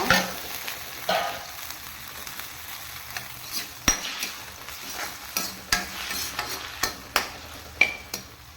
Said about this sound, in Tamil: தக்காளி வெங்காயம் உப்பு இது மூணையும் போட்டு ஒன்றா வதக்கி